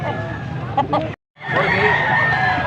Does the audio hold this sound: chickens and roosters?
yes